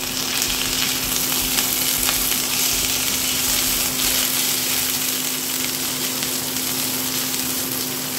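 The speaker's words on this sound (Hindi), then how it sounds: "फिर मैं इसमें ऐड कर रही हूँ 1/4 कप के करीब फ्रोजन मटर" Frozen peas hiss and crackle as they fry in a pan for upma, a steady close sizzle with a constant hum beneath, no voices.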